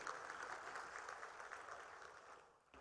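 A hall audience at an education policy seminar claps in a steady, moderately distant round of applause that fades slightly toward the end.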